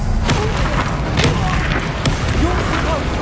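Confringo blasting spell going off in the Hogwarts Legacy video game, a dense, sustained explosive rumble with several sharp bursts punching through, loud and continuous, with voices underneath.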